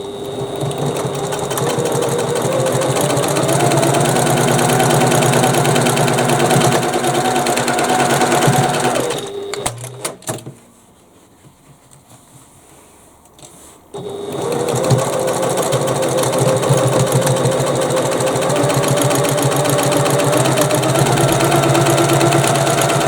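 A sewing machine stitches the sides of a bag pocket in long steady runs, loud and close, with a pause of a few seconds in the middle before it resumes at the same pace.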